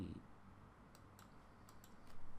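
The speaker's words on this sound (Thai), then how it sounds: "ต้องกด i ก่อนนะครับกด i insert ฝั่งนี้ก่อนแล้วก็ค่อยกดเมาส์กลาง" Sparse, faint clicks of a computer keyboard and mouse as the i key and the middle mouse button are pressed in the vi editor, a handful of light taps spaced apart over quiet room tone.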